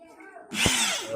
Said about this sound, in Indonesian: Untuk proses pengeboran di sini juga saya sarankan jangan menggunakan tekanan.